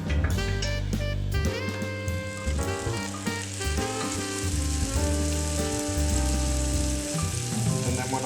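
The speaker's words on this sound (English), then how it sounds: "I'm gonna toast the bread with butter face down first" Multigrain bread toasting face down in butter in a cast iron pan gives a steady, continuous sizzle that runs the whole time under prominent tonal, music-like sounds.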